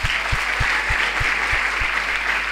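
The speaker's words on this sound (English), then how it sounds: "We're going to clap for them again." Congregation at a praise and worship service clapping for singers asked to stand, a dense, even roar of applause throughout with a few louder thumps close by.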